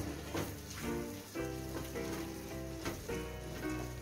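Chicken liver and onion sautéing together in a pan, a continuous bright sizzle with faint stirring scrapes and a brief lull near the middle.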